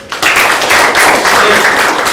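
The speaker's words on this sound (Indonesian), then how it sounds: "Ya, tepuk tangan dulu." Classroom of students clapping their hands together in a dense, steady burst of applause lasting about two seconds, close and fairly loud with no talking.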